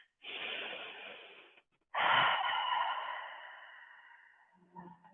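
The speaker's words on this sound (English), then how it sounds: "Just taking one more round of breath here" Slow, deep breaths during a therapeutic yoga session for the upper back and shoulders: a long airy inhale, a pause, then an extended exhale that tapers off, close and quiet with no talking.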